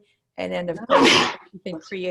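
A loud, breathy sneeze bursts out in the middle of speech during an office software training session, with talk running before and after it.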